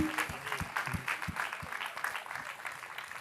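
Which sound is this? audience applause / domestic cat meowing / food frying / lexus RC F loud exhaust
audience applause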